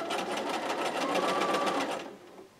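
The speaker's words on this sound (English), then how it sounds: "Okay, and then I'm just going to start sewing. Make sure your needle is in the down position." Sewing machine stitching a raw-edges square quilt, a steady fast whir of the needle with a rapid rhythmic pulse, close and loud, running for about two seconds before easing off.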